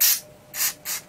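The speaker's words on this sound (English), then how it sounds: "I just spray a bit onto a piece of card or paper or something like that" Grease spray hisses onto a piece of card in three short, close, loud bursts: one long blast and then two briefer puffs, with no voices.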